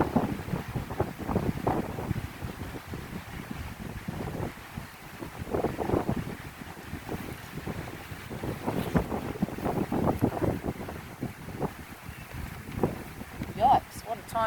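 Wind gusts of a passing squall buffet a microphone aboard a sailboat, heavy rumbling surges rising and falling repeatedly, with water noise and a voice speaking beneath.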